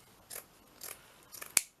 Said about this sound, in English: I'm going to just cut a little slice off here.